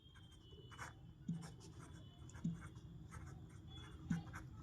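A pen writes out a maths solution on paper, giving soft, faint scratching strokes at close range, with three slightly firmer taps spaced about a second apart.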